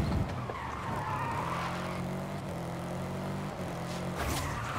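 Tires squeal in a long skid as a car brakes hard in the racing game Forza Horizon 5, engine droning under the steady screech.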